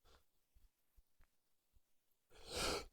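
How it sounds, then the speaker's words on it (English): A single sneeze bursts out near the end after several quiet breaths and sniffs, loud and close compared with the hushed lead-up. "excuse me, I'm going to sneeze."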